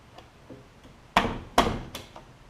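A lawn mower carburetor on a Toro Recycler with a Kohler engine is knocked from the back on a workbench, giving two sharp, close knocks after a few faint taps.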